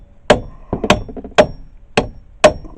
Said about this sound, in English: Go ahead and pound it with a hammer.